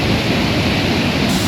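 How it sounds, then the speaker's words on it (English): A 300-foot waterfall roars in a steady, dense, unbroken rush, loud and enveloping, with no other sounds standing out. "This is a view of the 300-foot drop waterfalls, and where they disappear into the horizon."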